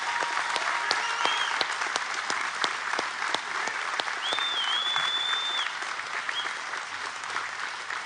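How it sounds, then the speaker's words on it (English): A crowd applauds steadily for a graduating class of probationary firefighters, dense clapping at moderate distance that carries on for several seconds, with a faint whistle rising over it. "Let's give this class of probationary firefighters a huge round of applause."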